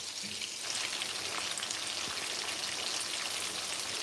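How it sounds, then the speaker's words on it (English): Meatballs fry in a pan with a dense, steady sizzle and crackle close by, constant in level and with no voices. "it is time for us to start flipping our meatball"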